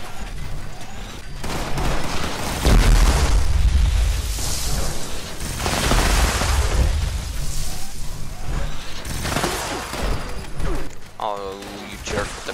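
Explosive scattered Gatling plasma gun firing in Fallout 76: sustained loud booming bursts of rapid fire with heavy low rumble, surging in waves over about twelve seconds while someone talks over it.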